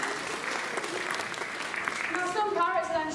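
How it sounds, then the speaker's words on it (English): An audience at a zoo parrot show claps steadily for the parrot Sally, a dense and moderately loud round of applause, with a voice starting to speak over it near the end. "You can have a round of applause for that"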